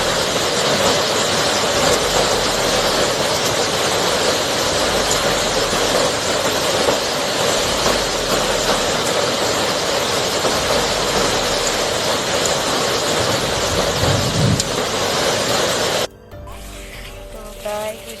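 Hail pounds house roof tiles during a storm in Cianjur, a dense, loud, continuous clatter and roar lasting most of the clip before dropping off abruptly near the end, with a voice briefly audible.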